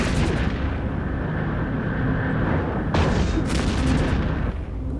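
Spaceship weapons fire in the EVE Echoes video game, with a Tempest battleship shooting at a warp bubble: a dense, continuous roar of heavy gunfire and booming impacts, joined by sharp bright bursts partway through.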